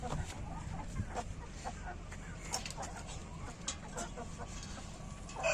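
Aseel chickens cluck softly in a busy farmyard in Pakistan, scattered short calls rising over a constant low rumble of background noise.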